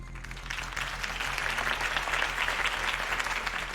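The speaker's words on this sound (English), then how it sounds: "could have heard that applause" Steady applause from a large crowd in the video game Batman: The Telltale Series, sustained and even throughout, with no distinct voices standing out.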